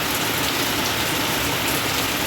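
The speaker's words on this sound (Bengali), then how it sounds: "এখন আবার শুরু হয়ে গেছে বৃষ্টি বিশাল, এখন বেশি জোরে পড়ছে আর কি।" Heavy rain pours down steadily, a dense, loud, unbroken hiss that continues alone throughout with no voices.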